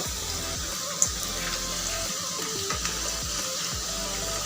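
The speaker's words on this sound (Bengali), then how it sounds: "এখন একটু উল্টিয়ে দেব যেন দুই পাশে সমানভাবে ভাজা হয়" Potato snack sticks fry in hot oil, a steady broadband sizzle running unbroken with a few small pops and brief bumps as the sticks are turned.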